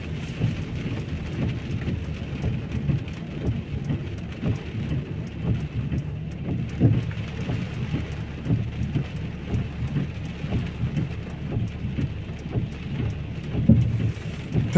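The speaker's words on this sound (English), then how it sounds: "take a look at the rain in Luton." Steady heavy rain pours down in Lewsey Farm, Luton, a constant, close wash of drops hitting the ground and nearby surfaces with a deep rumble beneath, unbroken for the whole stretch and free of talk.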